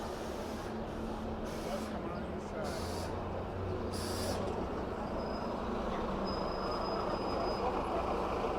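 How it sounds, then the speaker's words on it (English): Traffic rumbles along a narrow street in Toledo, Spain, as a large bus passes, giving a broad, steady roar with hissing and a faint high tone, fairly close and even in level. "And let's wait for the big bus."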